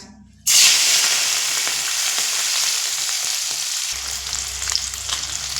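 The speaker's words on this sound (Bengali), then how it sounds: "লবণ আর পরিমাণ মতো হলুদ দিয়ে চিংড়ি মাছটা একটু ভেজে নেব" Prawns seasoned with salt and turmeric hit hot oil in a pan, setting off a sudden loud, dense sizzle that holds steady and close, with faint stirring in the crackle.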